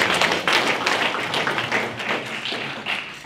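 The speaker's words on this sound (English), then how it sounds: "you should all give yourselves a round of applause" An audience at a House of Delegates candidate debate applauds, a steady patter of many hands clapping that holds fairly evenly for a few seconds without talk.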